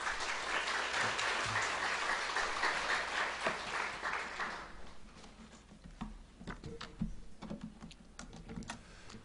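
Audience applause at a Korean Won Buddhist volunteer association's 40th anniversary academic conference, a dense, steady clapping from a large hall crowd that fades out about halfway through, leaving scattered claps and quiet room noise.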